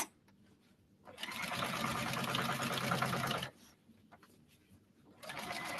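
A sewing machine stitching around the edge of a fabric sling bag runs in two close, steady whirring bursts, a long one of about two seconds and a shorter one at the end, with quiet pauses between.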